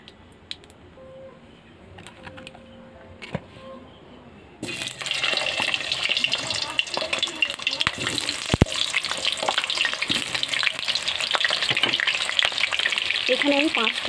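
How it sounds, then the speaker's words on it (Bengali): Peeled potatoes hit hot mustard oil in a pan and burst into a loud, steady sizzle that carries on to the end, after a few seconds of quieter kitchen handling. "এবার আমি আলুগুলোকে ভেজে নেব।"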